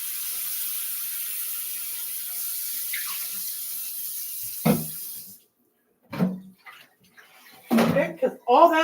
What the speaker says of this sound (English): I am going to rinse this real quick.